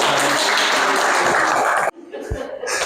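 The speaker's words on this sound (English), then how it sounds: "Little round of applause for us." A small club audience at a beekeeping talk gives a brief burst of applause with some laughter, dense clapping for nearly two seconds before it cuts off, followed by quieter room sound.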